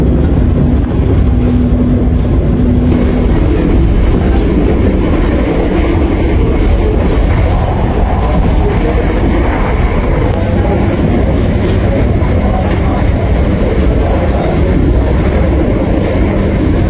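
The Senja Utama passenger train rolls along the rails toward Yogyakarta, heard from inside the restaurant car as a loud, continuous low rumble and roar with faint rhythmic wheel clatter for the whole stretch.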